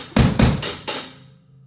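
A drum kit plays the opening figure of a groove: a few quick, punchy hits with crisp cymbal or snare wash, close and clear, ending in a short ringing decay.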